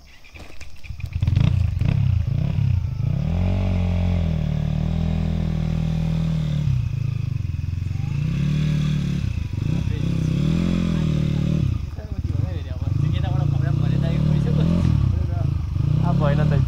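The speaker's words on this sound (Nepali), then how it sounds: "यस्तो भिडमा हामी बाइकहरू लिएर जाँदैछौँ" Several motorbikes ride slowly through a dense crowd on a blocked mountain road near Dharan, their engines throbbing close and loud with repeated revs and throttle swells, and muffled voices underneath.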